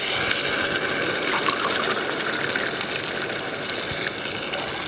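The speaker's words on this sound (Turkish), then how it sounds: "Ve hemen suyunu ekleyeceğiz. Soğuk su kullanıyorum." Cold water being poured into a tomato-style sauce for Turkish beyti kebab, a steady gushing, splashing stream that runs close and continuous throughout with no talking.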